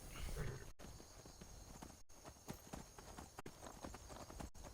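Steady clip-clop of horse hooves at a walking pace in the video game Skyrim, fairly close, with rhythmic hoof falls and a faint background hum throughout.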